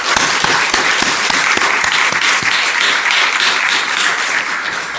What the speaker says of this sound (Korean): 우리 하나님께 감사하면서 영광의 박수를 돌리도록 합시다.